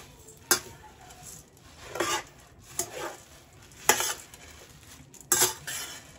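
A spoon stirring bhel puri mixture with tomato sauce in a bowl, giving five distinct scraping, clinking strokes spaced about a second apart, close and fairly quiet with no talking.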